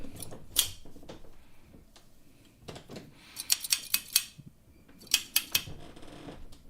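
Metal scissors handled on a leathercraft workbench, with a series of sharp, light clicks and snips in quick clusters, near and fairly quiet over faint room noise and no talking.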